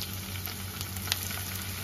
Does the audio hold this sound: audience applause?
no